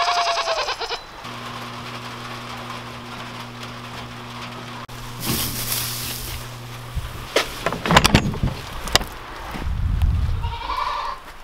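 Goats bleat from a backyard pen on a rainy morning, with a few loud bleats in the second half over steady rain patter and a low hum, and no talk.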